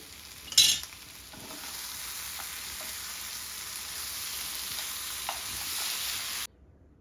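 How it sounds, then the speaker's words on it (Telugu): Cashew chicken fry being stirred in a pan with curry leaves, a steady sizzle of frying with scraping spoon strokes near the start, close and continuous until it cuts off near the end. "ఈ కాజును వేసి ఇందులో కలపాలి. కలిపి మళ్ళీ కొంచెం కరివేపాకు వేయాలి."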